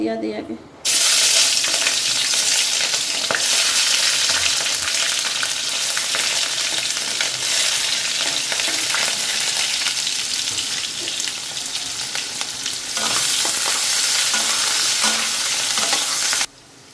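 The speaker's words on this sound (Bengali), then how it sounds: "যে কড়াইতে তেল গরম হয়ে গেছে পেঁয়াজ লঙ্কাটা" Onion and chili hit hot oil in a wok with a sudden loud, continuous sizzle that roars steadily for many seconds, stirred now and then, before cutting off abruptly.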